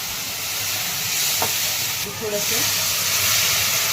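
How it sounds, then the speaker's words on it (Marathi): Finely chopped green chillies sautéing in hot oil with a little turmeric in a home kitchen, a steady soft sizzle with stirring, a voice speaking briefly over it. "हिरवी मिरची बारीक करून घेतलेली थोडीशी तेलामध्ये छान परतून घेऊ"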